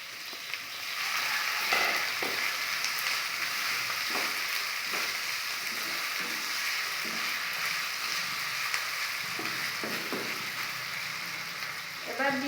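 Chopped onion and potato fry in a pan for a breakfast dish made from leftover rice, giving a continuous loud sizzle with occasional stirring scrapes and taps throughout.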